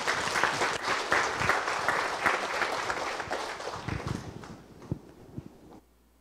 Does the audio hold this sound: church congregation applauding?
yes